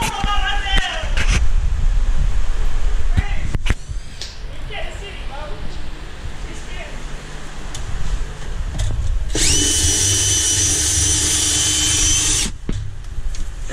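A power drill bores into a BMW E30 drift car during an electric power steering install, with one long steady high whine near the end, and voices talk in the background around it.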